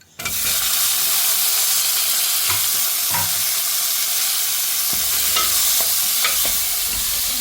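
Chili powder, turmeric and tomato fry in a hot pan for a pumpkin gravy, giving a steady loud sizzle that fills the whole stretch, with occasional scraping stirs breaking through.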